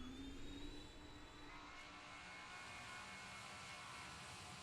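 Steady roar of a CRJ 700 airliner's jet engines in a flight simulator game, running continuously on takeoff, a broad constant rumble with a faint high whine, no voices.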